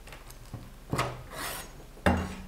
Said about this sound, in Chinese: 取出一个碗冻，我们给它从中间一切两半，